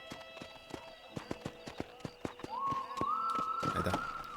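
Horse in the video game Red Dead Redemption, with a steady run of close hoof clip-clops that gives way to a loud neigh near the end.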